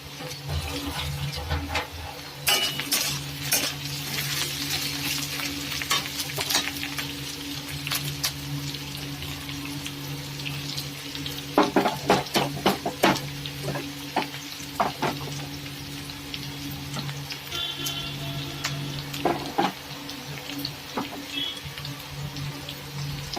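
Onions fried in oil with whole garam masala, cardamom, cinnamon and cloves sizzle steadily while being stirred, close-up, with bursts of spoon scrapes and clinks against the pan, especially around the middle, and no voices.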